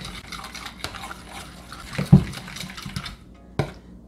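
Bowl of recipe ingredients being stirred together with melted butter for a keto casserole: soft, wet scraping and squelching strokes close up, with a couple of sharper clinks of the utensil against the bowl.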